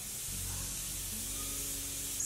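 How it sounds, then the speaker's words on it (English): Makeup setting spray from a drugstore bottle misted in a short, steady hissing burst lasting a couple of seconds, close and fairly loud with no talk. "after I spray sometimes, I will just go ahead and like push the setting spray into my face"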